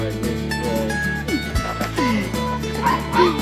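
Sled dog puppies at a training kennel yip and bark in quick, high-pitched bursts, with whimpering cries mixed in, close and lively throughout.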